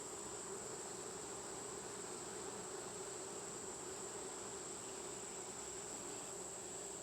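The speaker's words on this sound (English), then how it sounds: "Lots of bees" Honey bees swarm around an opened hive during a honey pull, a dense, steady buzzing drone that stays even and close throughout with no voices.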